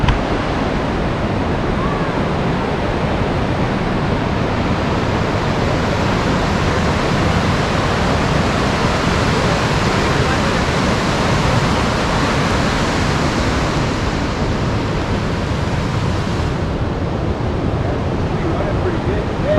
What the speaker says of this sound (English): Check out this river.